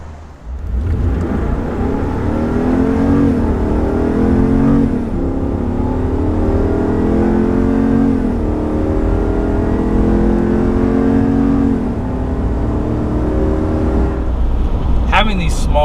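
A 2021 RAM 2500 pickup truck accelerating hard, its engine droning loud and steady with rising and falling gear pitches for about fourteen seconds, ending in a brief clatter.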